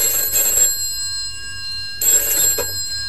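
Two bursts of an electronic telephone ring, each about two-thirds of a second, separated by a pause, with a thin steady tone in between; clear and close with no talking.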